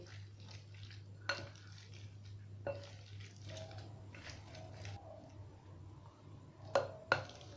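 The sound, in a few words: mashing boiled potatoes and peas with a masher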